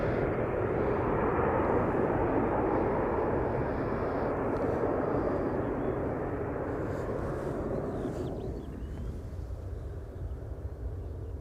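An airliner departs from a runway at Amsterdam Schiphol Airport with a loud, broad jet roar that holds steady and then fades gradually as the aircraft moves away.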